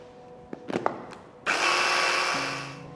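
A blender whirs up lemon zest, starting abruptly after a few faint clicks and knocks, then running loud and steady for over a second before its pitch drops and settles as it spins down.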